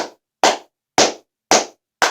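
A single person claps hands slowly and steadily, five sharp, close claps about half a second apart with silence between them, during a wrestling-event commentary.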